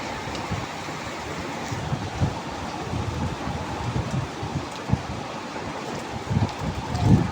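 Eggs scrambled into crumbly bits in a pan with onion, green chili and salt give a steady, dense sizzle that runs continuously at close range, with no talking.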